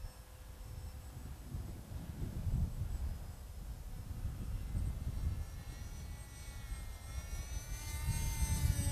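Small RC plane fitted with a CarbonBird motor flying outdoors against a crosswind, its faint, steady motor whine drifting at a distance and swelling slightly toward the end, with no talk.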